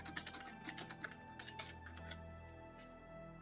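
Keystrokes tapped on a computer keyboard at a vintage Mac running System 7.5, an irregular run of close, light clicks over a steady background hum.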